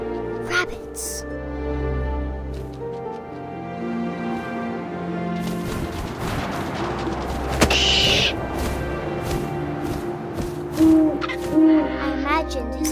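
An owl hoots in the What Remains of Edith Finch video game, a short clear hoot over a wind-filled ambient music bed, with a voice speaking over the scene.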